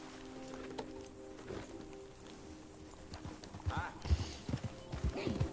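Horse hooves clip-clop at a walking pace in Red Dead Redemption 2, a steady soft rhythm that grows louder and heavier toward the end, with a quiet steady hum underneath and no talking.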